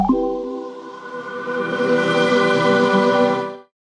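YouTube app startup sound: a swelling, sustained tonal chord that holds for about three and a half seconds, then cuts off abruptly.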